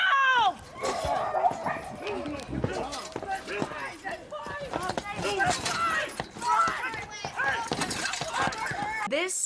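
A dog barks repeatedly in sharp, loud, overlapping bursts while attacking a horse, with frantic shouting voices and clattering impacts throughout.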